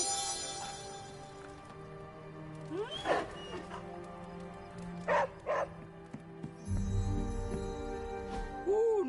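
A dog in the video game Marvel's Midnight Suns gives short yips and whimpering barks at intervals over a low ambient game backdrop, fairly close, with no talking.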